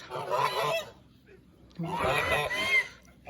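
Two bursts of loud goose honking, close by, separated by a short quiet gap.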